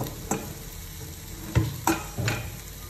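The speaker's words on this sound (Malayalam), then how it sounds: "നമുക്ക് ചിക്കൻ ചേർത്ത് കൊടുക്കാം" Chicken pieces, a kilo cut medium-sized, tipped into a hot curry pan that has cooked down dry, giving a few sharp sizzling bursts and stirring scrapes over a steady low fry, close by.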